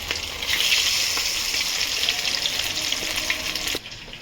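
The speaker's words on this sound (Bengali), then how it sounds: "এই চিকেন কিছুটা ভাজছি" Chicken frying in hot oil for chilli chicken sizzles loudly and steadily, with occasional stirring clinks, then the sizzle drops off abruptly near the end.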